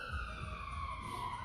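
An ambulance siren passes near a hospital on a hill, its steady, slowly falling wail heard at a distance over low background rumble.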